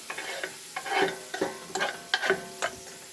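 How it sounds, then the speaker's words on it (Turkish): Carrot, garlic and onion sauté in hot oil in a pan, heard as close sizzling broken by several quick stirring scrapes in an uneven rhythm. "Hemen havucumu, sarımsağımı, soğanımı atıyorum, pışpışlıyorum"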